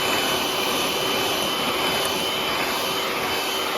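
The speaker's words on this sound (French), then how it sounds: "Maintenant, je fouette avec le batteur électrique." An electric hand mixer whisks egg yolks with sugar for tiramisu, a loud, even, continuous whirring buzz running the whole time with no talking.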